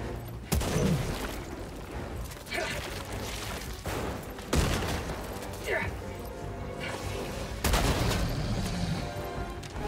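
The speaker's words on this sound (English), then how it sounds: "Throwing grenade!" Helldivers 2 battle with sharp, loud blasts recurring every few seconds, including a thrown grenade exploding, over constant combat noise and a voice speaking throughout.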